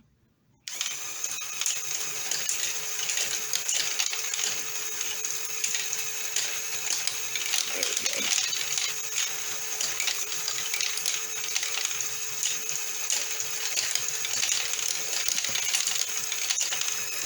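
A small plastic LEGO ball conveyor machine starts up and runs continuously with a busy whirring, clicking rattle of balls and gears, steady and close.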